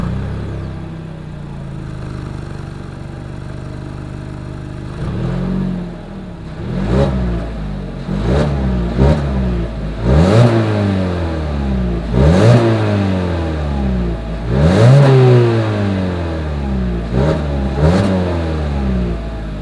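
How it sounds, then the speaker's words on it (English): A 2020 Mazda CX-3 four-cylinder engine revs repeatedly through the exhaust in sharp bursts, rising and falling, loud and close, after a steady idle rumble. "As always, here is that exhaust clip."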